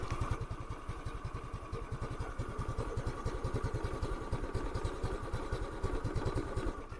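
A motorcycle engine idling nearby, putting out a steady, rapid, even chugging pulse with a light mechanical clatter.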